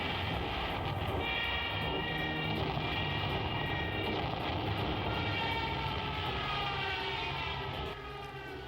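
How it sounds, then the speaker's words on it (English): Stuka dive bombers and Me-109 fighters of the Second World War fly over the North African desert front, a continuous droning engine roar with a rising siren-like wail, steady and fairly loud and with no talk over it. "The Stutka and Me-109 planes take control of the air and bomb all the Allied fronts"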